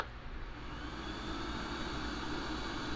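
A space heater's blower fan runs steadily, producing an even, constant whoosh of moving air that holds at the same level throughout, with no voices.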